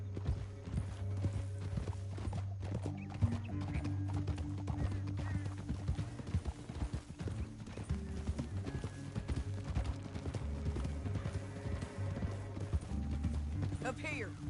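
Horses' hooves clip-clop steadily in Red Dead Redemption 2, a continuous rhythmic trot under music and occasional voices, with a brief whinny possible.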